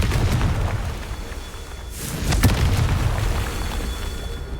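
A Confringo fire spell bursts in the Hogwarts Legacy video game, a short muffled boom and crackle midway through a dense, noisy game soundscape.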